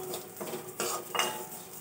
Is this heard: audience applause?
no